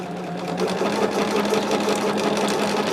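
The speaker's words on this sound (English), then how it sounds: "So I'm just going to be quilting this together or sewing these two together." Sewing machine stitching two pieces of quilt fabric together, a steady fast mechanical whirring hum with rapid needle clatter running continuously at close range.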